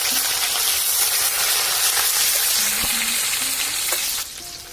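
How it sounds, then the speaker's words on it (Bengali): Chopped onion, bay leaves and a dried chilli fry in hot oil with cumin seeds, giving a loud, steady sizzle that fills the whole stretch with a few clinks of a utensil before it eases slightly near the end. "দুটো তেজপাতা, একটা শুকনো লঙ্কা দিয়ে দিলাম। পেঁয়াজ আমি সব বাটিনি, গোটা কুচনো পেঁয়াজ দিয়ে দেবো।"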